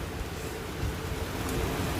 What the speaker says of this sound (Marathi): हे बघा कसा पाऊस चालू आहे